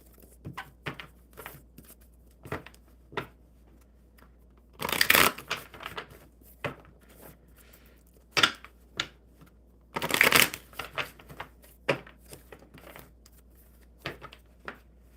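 Playing cards are shuffled in quick riffling bursts, with two longer, louder riffles among the lighter snaps and shuffles, close up in a quiet room with no talk.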